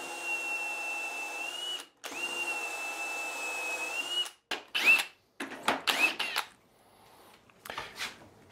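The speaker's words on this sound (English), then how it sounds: "Drilling into end grain is definitely a little bit harder than drilling into the face." Power drill boring into the end grain of construction lumber: a steady whining run, a brief stop, another long run, then a string of short stuttering bursts before quieter trailing pulses.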